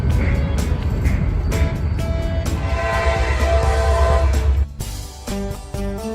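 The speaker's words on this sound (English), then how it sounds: "Well, have you ever seen this diverse of a lash-up of locomotives?" Diverse lash-up of locomotives, including a Grey Ghost unit, passing with a loud, steady rumble and blaring horn chords, the train noise close and continuous before dropping off sharply near the end.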